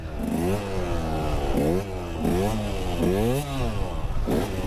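A motorcycle engine revs repeatedly in rising bursts in first gear during slow wheelie practice, loud and close, each throttle blip climbing then dropping back to a steady idle.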